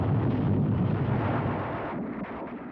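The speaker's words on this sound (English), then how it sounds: "Here is real pinpoint bombing." Continuous heavy rumbling roar from pinpoint bombing explosions, a dense low booming wash that stays loud throughout before easing slightly near the end, with no clear separate blasts.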